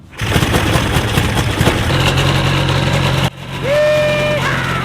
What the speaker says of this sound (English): we got the engine started.